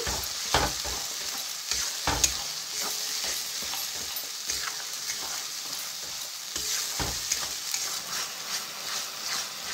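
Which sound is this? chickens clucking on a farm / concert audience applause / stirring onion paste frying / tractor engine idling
stirring onion paste frying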